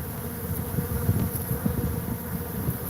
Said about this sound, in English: Can you guys see those great big bees flying around? Those are drones.